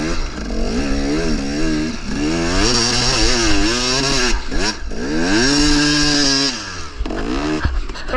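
A KTM 300 two-stroke dirt bike engine revs hard in sand and snow, a loud, close buzzing roar that rises and falls repeatedly as the throttle is worked, briefly dipping before climbing again.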